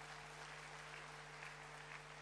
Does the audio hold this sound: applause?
yes